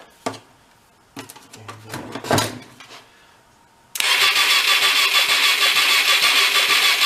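A Hyosung Aquila motorcycle engine, dead for nine years and overfilled with oil, cranks over in short bursts, then catches into a loud, steady running roar for the last few seconds.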